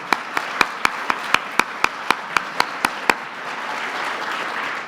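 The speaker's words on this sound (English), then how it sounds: "We're going to give them a round of applause." Audience at the 2016 Kids' State Dinner claps in a crisp, steady rhythm of about a dozen evenly spaced beats, then breaks into a continuous wash of applause that carries on to the end.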